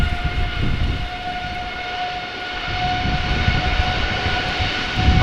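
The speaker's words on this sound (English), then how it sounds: "Alright, Air Canada, flight 901, going back to Montreal. This is a Dreamliner, 8 years old," An Air Canada Boeing 787 Dreamliner, eight years old, departs Amsterdam Schiphol for Montreal with a loud, sustained engine roar and a steady whine, heard alone without talk.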